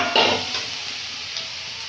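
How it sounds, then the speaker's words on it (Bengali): Spice paste of turmeric, tomato, coriander leaves and cumin paste frying in oil and being stirred in a pan, a close continuous sizzle with scraping stirs, no talk. "মশলাটা কষানো হয়ে গেছে, মশলা থেকে তেল ছেড়ে গেছে"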